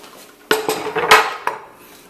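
Chopped garlic, hot pepper, scallions, shadow benny, onion and tomato tipped into a pot for stewed pork, giving a few loud clattering knocks and scrapes of utensil against metal over about a second and a half, then fading.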